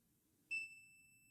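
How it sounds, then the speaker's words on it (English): A filament drying machine gives one short, clear electronic beep that sounds once and rings out faintly in an otherwise quiet room. "it will beep again"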